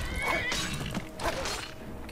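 A horse in the video game Skyrim lets out loud neighs and whinnies during a fight with ice wolves, bursts of sound close and prominent against game noise.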